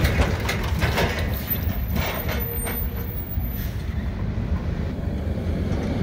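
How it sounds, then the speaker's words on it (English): San Joaquin Valley Railroad locomotive 2405 rumbles steadily past at the Sunmaid Diamond in Fresno, California, a loud continuous low roar of engine and rolling wheels with faint high squeals, no voices. "here comes San Joaquin Valley Railroad"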